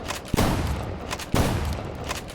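Two heavy shotgun blasts in the video game OutlawZ, about a second apart, each booming loud and followed by a long rumbling decay over dense background noise.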